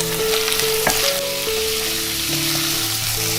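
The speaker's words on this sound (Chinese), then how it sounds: "炒香了就加入牛腩" Chunks of beef brisket stir-frying in a wok with ginger and garlic, a loud close sizzle broken by clattering spatula strokes, with no talk.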